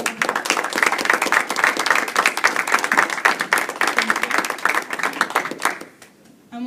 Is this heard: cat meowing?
no